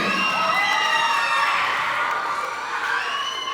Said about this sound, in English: Clap it up for Lanaya.